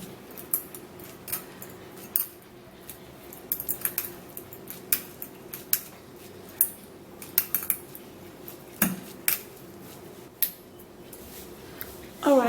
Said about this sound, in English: we're going to be turning that into a strainer, and then we're going to press it all out.